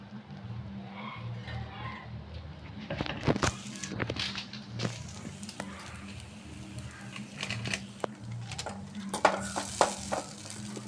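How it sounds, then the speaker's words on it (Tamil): Fish roe being stirred and fried in a cooking pot, a steady sizzle with repeated scraping strokes of the spoon against the pot throughout, close and moderately loud, with no talking. "நல்லா பாத்திரத்தில் போட்டு நல்லா கிளறணும் ஃப்ரெண்ட்ஸ்"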